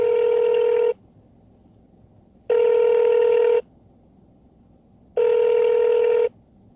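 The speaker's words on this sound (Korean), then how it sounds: "전화의 재다이얼을 눌러 고객과 통화를 합니다" A phone on redial to a customer rings three times, each ring about a second long with even gaps of silence between.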